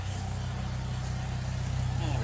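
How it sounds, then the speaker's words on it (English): A car engine idles steadily after its timing was reset, heard from around the back near the exhaust, giving a continuous low rumble with an even pulsing note throughout. "One pretty perfect exhaust note."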